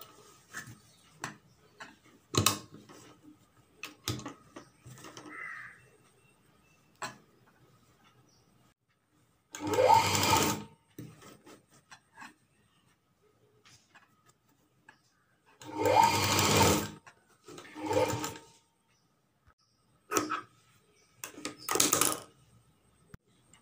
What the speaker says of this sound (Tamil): இந்த பிசுறு எந்த இடத்துல வந்து முடியுதோ அந்த இடத்துல வச்சு தையல் போட போகிறோம்.